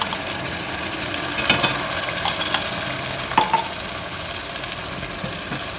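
Onions with ginger-garlic paste sizzle in a pan for aloo baingan while being stirred. A constant close hiss is broken by a few louder scraping stir strokes.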